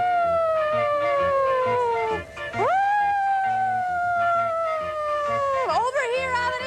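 Children imitate sirens with their voices, holding long wailing tones that slide slowly downward, break, then swoop up again, loud and close together.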